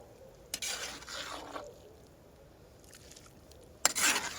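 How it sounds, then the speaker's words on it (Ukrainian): Borscht dressing stirred in a pot cooked over a campfire, giving a few brief scraping, clinking strokes separated by quiet pauses, close and moderately loud. "Усе перемішую і доводжу до кипіння"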